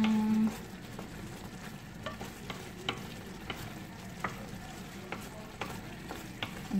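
Shrimp curry with vegetables sizzles in a pan as it is stirred, with a steady bubbling fry broken by repeated scraping strokes of the spoon. A short tone opens the clip.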